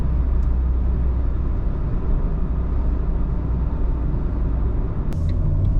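Renault Clio IV Limited with a dual-clutch gearbox heard from inside while driving: a loud, steady engine and road rumble that holds without pause, no talking.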